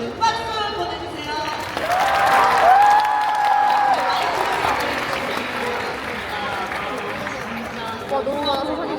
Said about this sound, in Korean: 여러분 박수 보내주세요